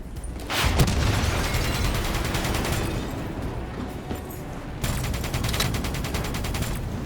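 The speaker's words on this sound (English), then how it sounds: "Grab cover! Incoming missiles!" Dense, loud gunfire from a Call of Duty: Black Ops 3 battle rattles steadily for about seven seconds, with rapid bursts and booms that ease slightly midway, then surge again.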